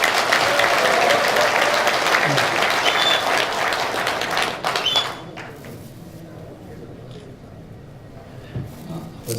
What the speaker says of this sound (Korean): 다시 한번 박수해 주십시오